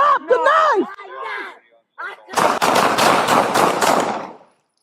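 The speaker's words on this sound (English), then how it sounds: "shots fired" A rapid burst of gunshots rings out in a police confrontation, a fast string of sharp cracks lasting about two seconds, right after shouting voices.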